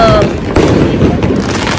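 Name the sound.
Diwali fireworks in Dubai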